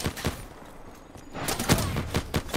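Muffled explosive thumps and bursts of gunfire from a Call of Duty Black Ops 3 match, a quieter lull in the middle before several sharp blasts crowd together near the end.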